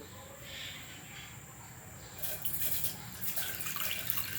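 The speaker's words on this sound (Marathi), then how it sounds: "आता गॅस ऑन करून पुन्हा ह्या भांड्यामध्ये पाणी टाकून घ्यायचं आहे." Water is poured into a cooking pot on a gas stove while making drumstick-leaf soup. The pour starts with a splash partway through and continues, and a voice is faintly heard in the background.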